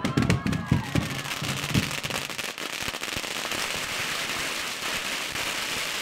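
Firecrackers go off at the 2016 Chinese Lunar New Year parade in Sunset Park, Brooklyn. Dense, rapid crackling and popping continues for several seconds outdoors, with voices briefly audible near the start.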